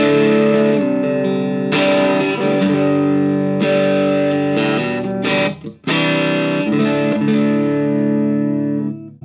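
Electric guitar riff played through a Joyo R-02 Taichi Overdrive pedal, with loud, sustained overdriven chords that change in several sections and ring out between brief pauses, with no talking.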